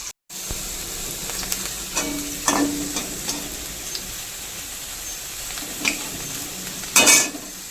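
Pakoras fry in hot oil with a steady sizzle, broken by a few scrapes and clinks of a utensil in the pan, with no talking.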